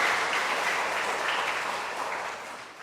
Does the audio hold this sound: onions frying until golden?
no